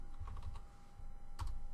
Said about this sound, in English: If I start typing in red